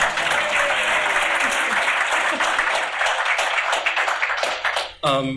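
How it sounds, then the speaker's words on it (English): Audience applause at a talk for a first-time speaker, a loud dense burst of clapping that holds for about five seconds, then cuts off as a voice begins speaking. "please give her a warm round of applause"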